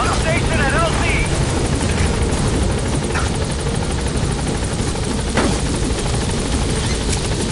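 A support helicopter in Metal Gear Solid V arrives at a landing zone, its rotor a loud, steady, close chopping drone that fills the clip, with brief radio-style voice chatter over it.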